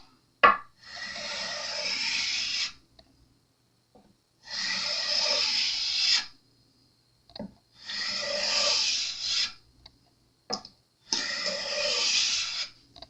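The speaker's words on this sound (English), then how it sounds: "I just touched something over here with the sanding beam." Four long rasping strokes of a sanding beam rubbing over the metal frets of an Epiphone Les Paul guitar during fret leveling, each about two seconds, separated by short pauses with faint knocks.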